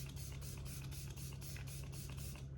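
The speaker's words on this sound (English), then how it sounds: "I'm just going to spray my setting spray. This is the e.l.f. Stay All Night Micro Fine." Repeated short hissing bursts of e.l.f. Stay All Night Micro Fine setting spray mist out in a quick, even rhythm, close and soft, with no talking.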